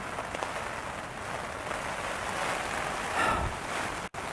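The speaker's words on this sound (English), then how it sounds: "It's raining now in Blainville." Steady rain falls on a tent at a campsite near Blainville during an overnight bike-camping trip, a dense continuous hiss close to the microphone, with a brief dropout near the end.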